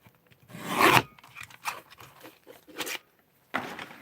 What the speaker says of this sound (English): going to cut a bit off here